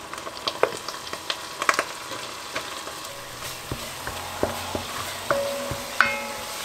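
Tomato-pepper paste and a little flour frying in a pan, a steady close sizzle broken by repeated spoon scrapes and clicks as it is stirred, with no talk.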